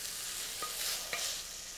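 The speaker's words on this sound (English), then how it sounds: "Oh yeah, we got sizzle now." Steady broadband sizzle of marinated steak frying in a pan, with a couple of soft clinks or scrapes from a utensil; no voices.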